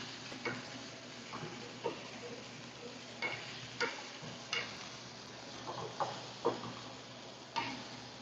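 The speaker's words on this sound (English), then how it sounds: "we're gonna stir fry them and bring the flavors, each ingredients" Ingredients stir-fried in a pan for Japanese-style mochi pasta produce a faint sizzle broken by irregular, close spatula taps and scrapes, with no talking.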